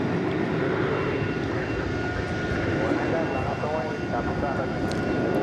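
Jet airliner at DFW Airport at night, heard as a steady, broad engine roar that holds at a fairly loud level throughout, with faint voices underneath.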